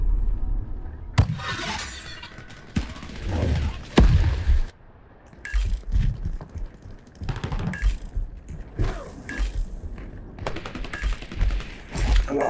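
Gunfire in the video game Shatterline, loud sharp shots and bursts cracking repeatedly across the clip alongside breaking, shattering impacts, with no talk over it.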